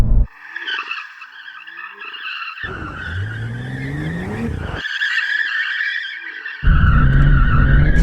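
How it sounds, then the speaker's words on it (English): BMW M2 warming its tyres before a drag race, with two long bursts of loud tyre skidding and squeal over a rising engine roar, broken by brief quieter gaps, close and unbroken by talk. "Thankfully, the owners are letting us warm up the tyres."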